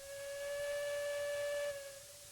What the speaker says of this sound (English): We should be able to get a little bit of a whistle now.